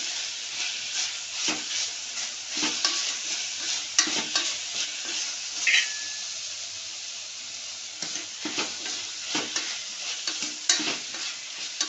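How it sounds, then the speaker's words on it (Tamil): Tomato, onion and ginger-garlic paste sauté in a pan for channa masala, giving a steady close sizzle broken by repeated scraping stirs of the spoon. "ஒரு 2 நிமிஷம் இப்படியே நல்லா வதங்கட்டும்"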